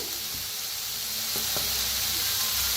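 Chopped vegetables, including carrot, stir-frying in a pan for momo filling, giving a steady close sizzle with a few brief scraping stirs and no voices.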